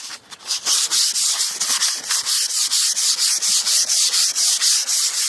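Rhythmic hand sanding of the body of a 1988 Cadillac DeVille, a rapid series of raspy back-and-forth strokes on a hard surface, close and steady throughout.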